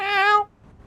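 A man imitates a cat's meow with a single drawn-out, nasal mew that cuts off sharply, followed by near silence.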